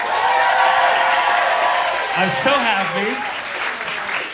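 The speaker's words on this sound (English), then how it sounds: "One more applause." A live comedy show audience breaks into loud, sustained applause with cheering and whoops, filling the room. Partway through, a voice speaks briefly over the crowd noise.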